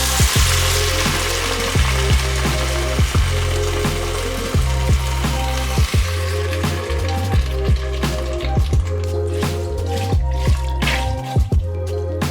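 Vegetable broth pours into a hot pot of spices for vegan pho, a loud continuous sizzling hiss and splashing with scattered drips and pops close by, steady for the whole stretch.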